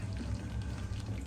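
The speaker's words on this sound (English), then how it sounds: "let's add just a little splash of milk to this" Milk splashes into a thick cream of turkey soup in a short, steady pour close by, a soft liquid trickle lasting about a second.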